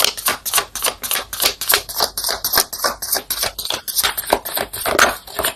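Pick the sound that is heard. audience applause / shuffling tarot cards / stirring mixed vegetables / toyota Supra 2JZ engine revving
shuffling tarot cards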